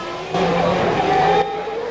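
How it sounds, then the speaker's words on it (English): A Ferrari Formula 1 car at the 1994 Monaco Grand Prix, its high engine note rising loudly as it passes for about a second amid a steady trackside roar. "And there is Gerhard, driving as hard as he can in the Ferrari."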